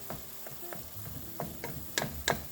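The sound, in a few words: stirring minced garlic into simmering browned meat for chili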